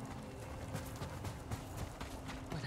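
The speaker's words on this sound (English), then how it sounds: "Let's get the horses." Horses gallop in the video game Ghost of Tsushima, with rapid rhythmic hoofbeats that clip-clop steadily and fairly faintly throughout.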